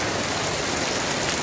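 Heavy rain pours down on a street turning into a river, a dense, loud, steady hiss of water drumming on surfaces with no pauses.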